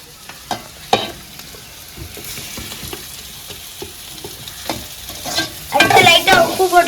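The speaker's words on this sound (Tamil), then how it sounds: "அதுக்கப்புறம் தக்காளியை போடுவோம்." Tomatoes frying and being stirred into a prawn gravy in a pan, a soft sizzle under scattered scraping stirs, swelling into a louder, hissing fry near the end.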